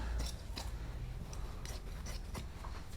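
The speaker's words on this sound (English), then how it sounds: "so I'm going to cut off a piece from this" Scissors snipping through a piece of old, stained foam, a few short, soft close-up cuts with faint rustling between them.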